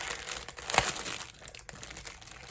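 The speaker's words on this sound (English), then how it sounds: "sorry for the crinkling again" Crinkling of plastic packaging around 10-gram mini skeins of yarn, close and continuous rustling with a sharper crackle near the start, no talk.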